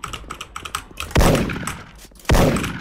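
Gunfire in the Korean online shooter Special Force: a run of light clicking keyboard-like taps followed by two loud, sharp sniper-style shots about a second apart, close and punchy with no talk.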